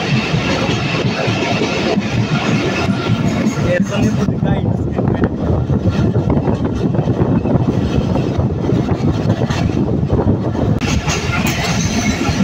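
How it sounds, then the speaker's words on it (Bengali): A local passenger train on the Rajbari Mail service pulling out of Basantapur railway station, with a steady loud rumble and rattle of carriages heard from on board, continuous throughout. "তো আমাদের ট্রেনটি কিন্তু বসন্তপুর রেল স্টেশন ছেড়ে যাচ্ছে।"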